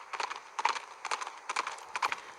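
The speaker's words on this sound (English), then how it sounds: "The communicator's noise startles the nibbling horse, lifts his head and bolts into the distance." A horse galloping away in the game Reverse: 1999, rhythmic clip-clop hoofbeats in quick groups of strikes, fairly faint and moving off, with no talking.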